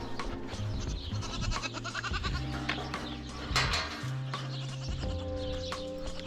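Several goats, not yet kidded or training as milkers, bleat repeatedly in a pen, overlapping calls near and far, with some rustling and clatter in between.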